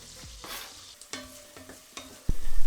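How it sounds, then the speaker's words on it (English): Onions sizzle in butter in a soup pot, a steady fry broken by several sharp stirring scrapes and a loud final clatter near the end, close and alone with no talk. "You can hear the sizzle on it potentially already."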